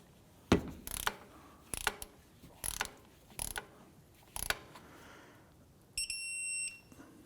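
Ratchet clicking in short bursts while caliper bolts are tightened on a 2004-2008 Acura TL, six separate close bursts of rapid clicks with pauses between, then a brief electronic beep near the end.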